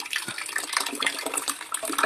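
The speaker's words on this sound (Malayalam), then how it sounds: "ടാങ്ക് മെല്ലെ നിറയുന്നുണ്ട്. ഇതാ വെള്ളം വരുന്നുണ്ട്." Water rushing through a pipe into a storage tank, a steady, close, hissing gush that continues without a break.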